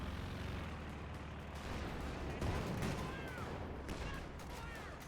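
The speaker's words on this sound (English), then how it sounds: "More artillery." Artillery fire in a real-time strategy match, with distant booms and crackling gunfire layered under a busy battle din, fairly faint and rolling across several seconds.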